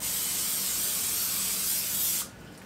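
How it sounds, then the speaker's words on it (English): Pam cooking spray hisses steadily onto baking pans for sugar cookies in a home kitchen for about two seconds, loud and close, then cuts off, leaving a quiet room. "Spray my pans lightly with"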